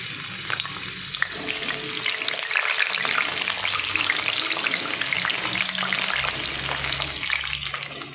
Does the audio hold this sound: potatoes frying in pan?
yes